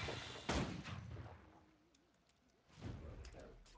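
Shotgun blasts in a video game, a loud close boom followed by a decaying rumble, then a second burst of fire after a quieter pause, with someone talking in between.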